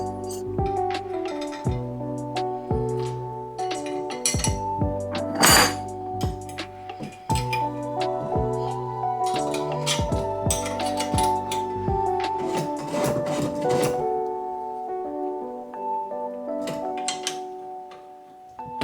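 Feet are fitted onto a XIWUEI bike wheel truing stand, giving a string of close metallic clinks, taps and rattles of parts, irregular and sharp, with brief scraping handling noises between.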